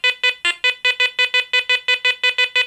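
A Garrett Ace Apex metal detector gives a rapid run of about fifteen loud, even electronic beeps as it passes over a 10 kopeck coin, with no voices.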